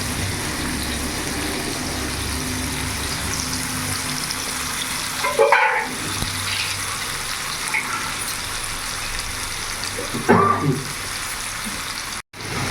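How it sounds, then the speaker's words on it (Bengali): Khoira fish fries in a pan with tomatoes and spices, giving a steady close sizzle. Two brief, louder bursts of stirring or spattering break through around the middle and again near the end, with no talking. "এইভাবেই মাছটাকে আমি ভেজে নেব।"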